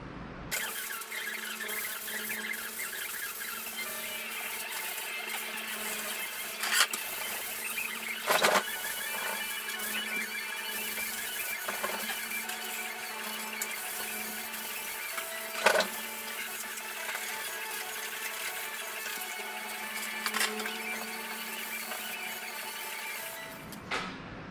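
A painted lighthouse model is power-sanded to knock down high spots, producing a continuous buzzing mechanical whine that runs steadily for over twenty seconds, with a few brief louder scuffs.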